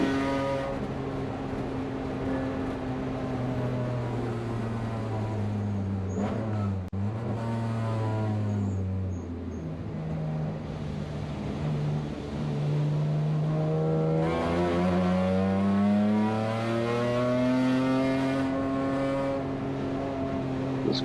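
Race car engine at the Bonneau race track, a loud continuous drone with rising and falling pitch as the driver works the throttle through slippery corners, close and steady throughout with no talk.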